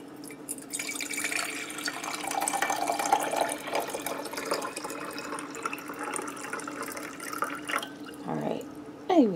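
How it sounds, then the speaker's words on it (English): Water pours and trickles into a coffee machine reservoir with a rising gurgle, close by, fairly quiet, with a brief voice near the end. "I need to fill it up with water"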